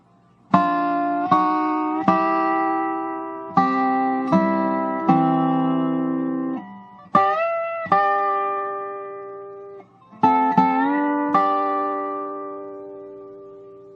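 Dobro played in a slide-guitar phrase of plucked, ringing notes and slides with several two-note chords, clear and close with no talking.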